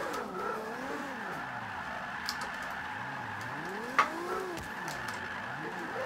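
Toyota Supra drifting and spinning in Forza, the engine revving up and down in sweeping swells with a brief tire squeal and a thump midway, and no talking.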